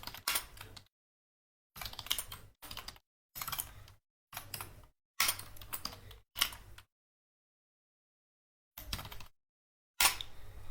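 Code being typed on a computer keyboard, quiet bursts of rapid key clicks separated by pauses, close and faint with no talking.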